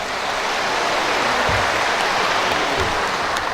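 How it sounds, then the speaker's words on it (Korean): Crowd at a party gubernatorial primary convention in a university gymnasium applauding, a dense, loud, continuous roar of clapping throughout with no break. "크게 박수 한번 쳐주시길 부탁드립니다"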